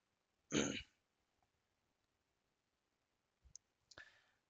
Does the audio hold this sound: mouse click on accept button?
yes